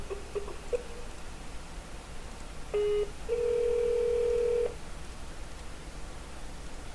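A telephone call is dialed with a few short keypad tones, then a brief tone and a long steady ringback tone, faint against background hiss, with no talking.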